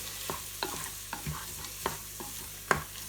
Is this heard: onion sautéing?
yes